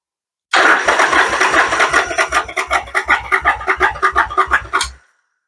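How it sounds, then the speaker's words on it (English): A chopper motorcycle engine cranks over on the starter during a compression test, a loud close rhythmic chugging of steady regular beats lasting about four seconds before stopping abruptly. "and we'll do some cranking."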